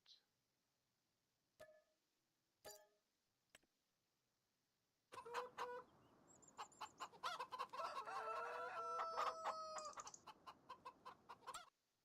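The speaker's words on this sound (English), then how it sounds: "So, one rooster. Hundred and two chickens." Flock of about a hundred chickens with one rooster: a few faint isolated clucks, then a dense burst of clucking and squawking, with a rooster crowing partway through, fairly close.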